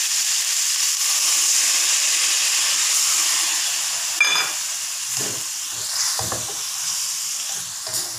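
Winged beans stir-fried with belacan, sizzling steadily in a hot pan with a constant frying hiss, broken by a few brief clanks and scrapes of the stirring utensil against the pan.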